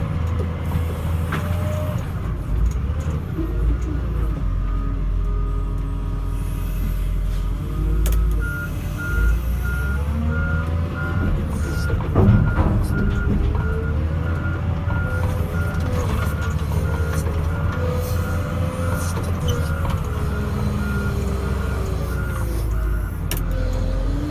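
A wheel loader works continuously at close range, its engine rumbling steadily while a reversing beeper sounds in a regular repeating pattern, pushing dump truck loads of stumps, mud and debris off a drop-off.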